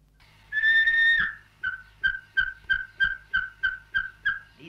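A person whistles to call an animal, in the style of a Thuringian village: one long sustained whistle, then about nine short, evenly spaced whistled calls in a steady rhythm, close and clear with no talking.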